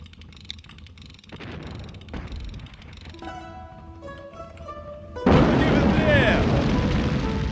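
Low rumbling booms of artillery in the video game Sudden Strike Forever, then a sudden loud burst of blast noise that sustains as a heavy roar, with tonal game sounds beforehand.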